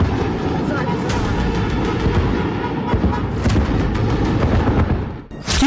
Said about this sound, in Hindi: आधे घंटे के अंदर धमाके ही धमाके होते हैं।